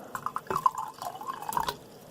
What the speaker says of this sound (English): So let's pour a little bit of water in there